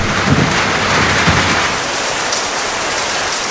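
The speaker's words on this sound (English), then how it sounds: "the Amazonian skies open" Heavy Amazon wet-season rain pours down in a dense, steady roar, with a few low rumbles early on before settling into constant hiss.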